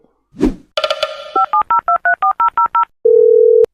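An animated comedy's telephone is dialed to call the police: a quick burst, then a run of about ten short, evenly spaced keypad tones, followed by a steady ringback tone.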